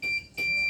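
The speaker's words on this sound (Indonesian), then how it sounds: "maka akan menghidupkan buzzer dan juga LED seperti ini" A buzzer in a rain sensor transistor circuit gives two steady, shrill high-pitched beeps with a short gap between them, close and clear.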